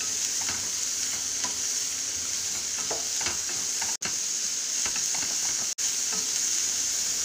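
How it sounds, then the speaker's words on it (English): Onions sautéing in a pan over a high flame, a steady close sizzle with small crackles and the occasional stir, briefly cutting out twice, no one talking. "we'll saute this for a minute on high flame till the onions turn"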